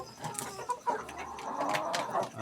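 Roosters and chickens on a farm flock, several birds clucking and calling in irregular bursts close by, with layered squawks overlapping throughout.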